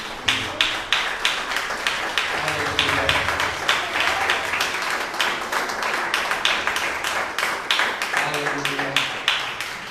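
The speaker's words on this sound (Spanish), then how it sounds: "Puedes dar ofrenda de palmas al Señor." A church congregation claps hands in rhythm as an offering to the Lord, with steady, fairly close clapping over a voice calling out praise.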